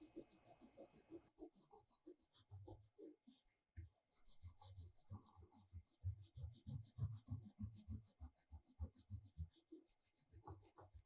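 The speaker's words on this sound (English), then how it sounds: "Using steel wool, gently rub the surface of the painted board." Steel wool rubbed over a painted board, close rhythmic scratchy strokes, one brief pause, then repeated rasping passes.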